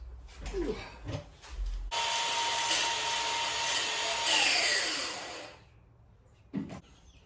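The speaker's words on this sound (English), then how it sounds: "I had to deburr this dude so that it'd go through the bearings here" Power-tool grinding on an RC car drive shaft, deburring it so it slides through the bearings on a Rlaarlo AK-917 stretch-chassis build; a loud, steady whirring lasts about four seconds, with brief handling noises before and after.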